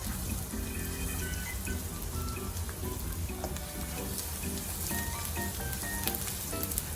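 Onions sautéing in a pan for sarciadong tilapia, a steady, dense sizzle and crackle that fills the whole stretch without letup, close by and with no talking over it.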